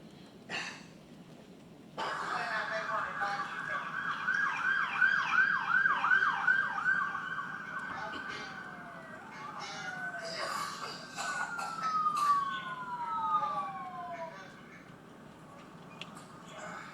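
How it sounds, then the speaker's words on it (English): Emergency sirens wailing in the background of police body camera footage, rising and falling yelp and wail tones layered with passing vehicle noise, fairly distant, no speech. "we hear sirens in the background"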